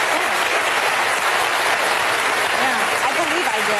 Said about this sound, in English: just give me applause if you had the measles shot when you were a kid